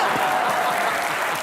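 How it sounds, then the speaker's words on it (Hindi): Loud, dense audience applause at a TV comedy show taping, a sustained wash of clapping from a large studio crowd filling the whole moment, no talking. "जोरदार तालियां।"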